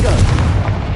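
Confringo, the fire blast spell from Hogwarts Legacy, goes off as a loud, dense booming burst with crackling gunfire-like texture across about a second, no voices heard.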